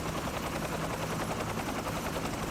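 A military helicopter runs steadily and loudly throughout, its rotor chop blending into a dense, continuous roar with no one speaking.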